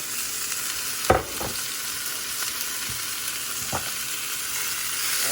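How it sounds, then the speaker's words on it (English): Rosemary and chopped aromatics sautéing in a pan for ackee and saltfish, a steady close sizzle broken by a couple of clattering stirs. "And I'm gonna saute."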